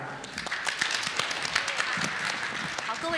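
Audience applause for forum guests at a Tianjin real estate company's 25th anniversary brand event, moderately loud and continuous, with voices mixed in.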